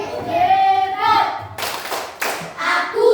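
Primary school students in a third-grade classroom clap together in short, rhythmic bursts of hand claps, interleaved with loud children's and teacher's voices chanting and speaking close by.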